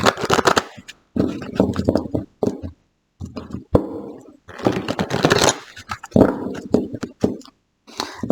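Tarot cards are shuffled by hand ahead of a ten-card spread, with uneven clusters of riffling, sliding and tapping separated by brief pauses, close and fairly loud.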